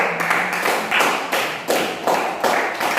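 A classroom of students claps hands together in a steady, rhythmic beat of sharp slaps, close and fairly loud, with no talking.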